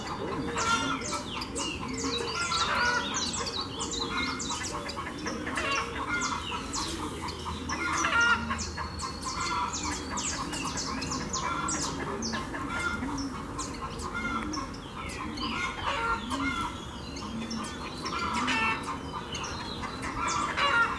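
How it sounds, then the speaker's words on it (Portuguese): A large flock of small songbirds, coleiros, gathered around a cage, calling and chattering continuously in dense overlapping chirps at moderate loudness, with no talk. "É muito passarinho, galera."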